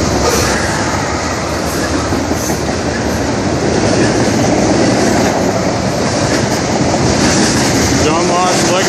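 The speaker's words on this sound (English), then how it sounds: "part of a UP freight going underneath the bridge here in Liberty" A Union Pacific freight train passes beneath a bridge in Liberty, a loud, continuous close rumble of rolling cars with steady clickety-clack over the rails, filling the whole stretch without pause.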